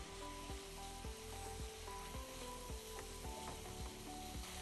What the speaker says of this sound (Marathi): सर्व मसाले तेलामध्ये छान परतले गेले आहेत